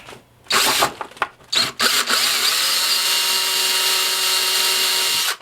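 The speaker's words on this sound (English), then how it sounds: "Just drill a little bit extra." A power drill drilling out a rivet on a Norscot Cat 365BL model whines steadily at close range, with a few short bursts first, then a long continuous run of about three seconds at full speed.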